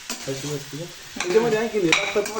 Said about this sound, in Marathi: त्यामुळे फक्त मी येतं असे फ्राय करून आलू टाकणार आहे